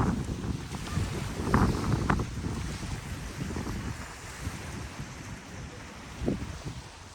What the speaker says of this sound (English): this wind, I know you can hear this wind